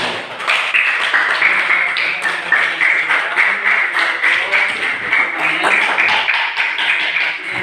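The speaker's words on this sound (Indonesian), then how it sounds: "Ya, tepuk tangan." Students in a classroom clap their hands together in steady, dense applause that fills the whole stretch at a loud, even level.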